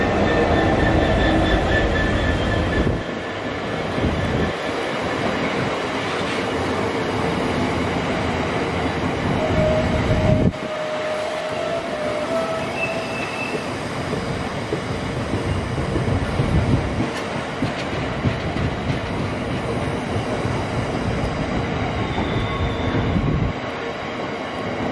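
A GB Railfreight Class 66 locomotive, 66726, rumbles past at close range, its loud broadband roar of engine and wheels filling the whole stretch with rail clatter, only briefly dipping before surging again.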